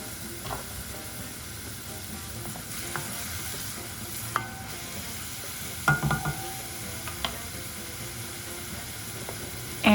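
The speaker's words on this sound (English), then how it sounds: "drizzle in some olive oil on medium heat, and then add in half an onion, diced" Diced onion frying in olive oil over medium heat, a steady low sizzle and crackle with occasional clicks and scrapes of stirring, close and fairly quiet, no voices.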